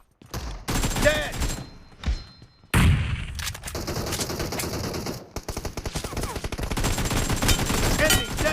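Rapid bursts of AKM rifle fire ring out in a video game, sharp cracks in quick strings and short volleys with brief gaps, loud and close, layered with game effects and a faint voice.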